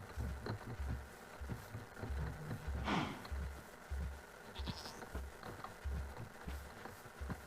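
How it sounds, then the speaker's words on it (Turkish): A goat and its kid bleat in Minecraft, several short bleats scattered over a quiet background of regular soft thumping footsteps. "Bir tane keçi kaçırdım yavrusuyla beraber"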